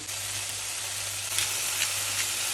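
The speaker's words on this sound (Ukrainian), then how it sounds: "Вже шкварчить." Steady, close sizzling of onion frying in a hot pan, a constant crackling hiss with no talking over it.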